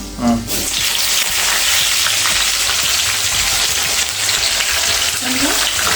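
Two sprigs of curry leaves frying in hot oil for lemon aval upma, a loud, steady, close sizzle that continues without a break.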